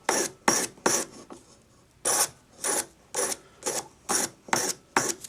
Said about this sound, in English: sacrilegiously file the point off, sand it